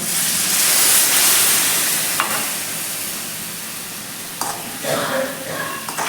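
Cluster beans sizzle and hiss loudly in a hot pan as a little water goes in, a sustained steamy fry with a few sharp crackles and stirring scrapes near the end.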